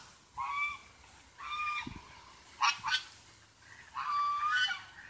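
Ducks honking repeatedly near water, several loud calls in separate bursts across the stretch with short quiet gaps between them.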